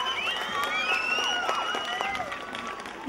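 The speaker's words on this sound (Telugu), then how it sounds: "ఒకసారి గట్టిగా చప్పట్లు." An audience at a school annual day celebration on stage, clapping in a sustained mixed round of applause with shouts and voices in the crowd, fairly steady throughout.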